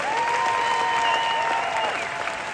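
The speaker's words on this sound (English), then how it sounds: "Give him a huge round of applause" An audience claps steadily for a product doctor at a gut health test launch event in Oslo, loud and continuous throughout, with a sustained tonal hum running over the clapping.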